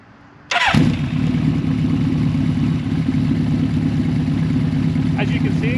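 A 1983 Suzuki GS1100L motorcycle fitted with a Delkevic exhaust starts with a sharp burst, then settles into a loud, steady, deep idle close by.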